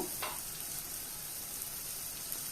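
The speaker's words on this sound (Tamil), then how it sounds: "உப்பு தேவையான அளவு சேர்த்து வதக்கும் போது தக்காளி நல்லா வதங்கி வரும்" Chopped tomato sautéing with salt in a pan for a goat spleen fry, a steady soft sizzle with a brief stir near the start and no voices.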